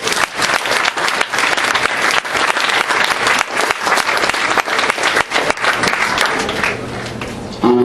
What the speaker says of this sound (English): so if you could just give yourselves a round of applause